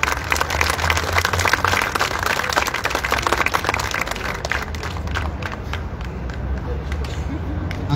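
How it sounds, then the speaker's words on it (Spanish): Applause for a consul general at a Bolivian community ceremony in Buenos Aires, a dense, somewhat distant clatter of hands mixed with crowd murmur and voices, thinning slightly toward the end. "Un fuerte aplauso para nuestro cónsul general."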